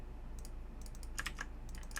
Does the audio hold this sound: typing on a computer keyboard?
yes